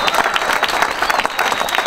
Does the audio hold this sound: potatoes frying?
no